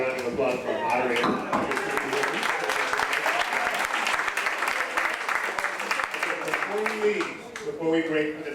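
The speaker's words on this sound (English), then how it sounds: "I'll give a round of applause for our moderator." An audience claps in a sustained round of applause for a moderator at an evening humanities event, dense and continuous before thinning at the end.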